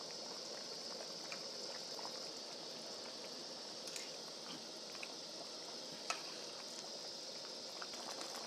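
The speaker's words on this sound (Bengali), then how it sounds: "ঝোল উতলে গেছে, এবার মাছ ছেড়ে দেবো।" Fish curry gravy boils in a pot during village-style cooking, giving a faint, steady bubbling simmer that runs evenly with a single small pop and no talking.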